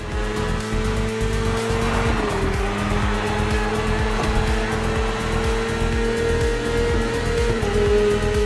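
BMW S1000RR superbike engine in The Crew Motorfest, a loud steady high-revving drone with a sustained engine tone that shifts pitch slightly as gears change, continuous throughout with no voices.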